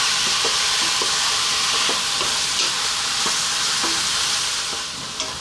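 Moussaka meat mixture frying in a pan over medium heat, a steady loud sizzle with intermittent scrapes and knocks of stirring throughout, no talking.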